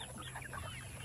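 Rhode Island Red and Rhode Island White chickens cluck softly in a free-range area, a low steady murmur of calls under a constant background hum.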